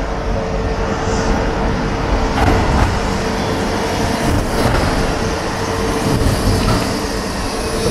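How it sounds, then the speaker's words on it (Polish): A tram rushes toward the listener along city tracks, a steady loud rumble of wheels and rail noise filling the whole stretch with slight surges, no talk over it. "Ale tutaj tramwaj pędzi na nas"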